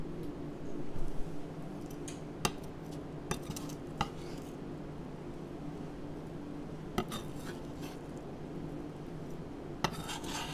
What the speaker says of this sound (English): And then cut up the greens to go on my salad.